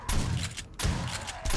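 Gunshots crack in 7 Days to Die, two or three loud close bursts with short gaps between them.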